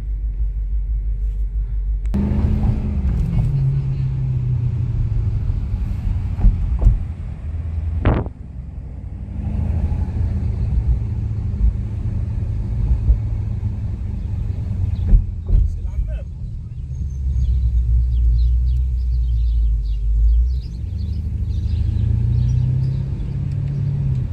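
A BMW X6M First Edition running with a deep, steady engine rumble throughout, heard from inside the car, with people talking over it.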